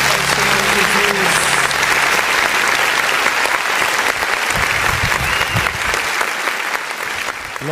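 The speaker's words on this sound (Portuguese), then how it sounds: "Aplauda ao Senhor Jesus." Loud congregational applause fills a church during a worship service, dense clapping with a low hum underneath and what may be voices calling out, gradually easing toward the end.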